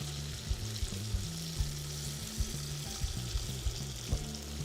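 Quail and a whole head of garlic frying in a pan give a steady, moderate sizzle, with soft periodic pops and clicks over a low background hum.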